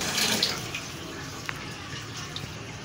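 Tap water runs into a sink basin to rinse off bleach, a steady soft splashing wash with a few small drips and knocks, heard close up and fairly quiet with no talking.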